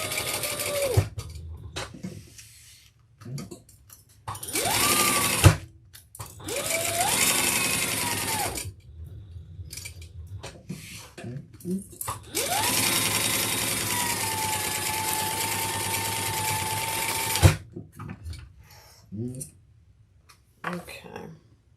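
Home sewing machine basting the sides and bottom of a tote bag closed, running in several close, steady bursts with brief pauses, someone talking between and over the stitching runs.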